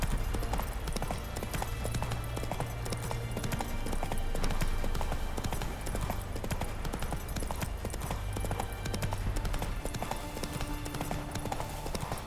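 Clip-clop hooves of Roach, a horse in the video game The Witcher 3, trotting steadily and continuously under loud game music and ambience.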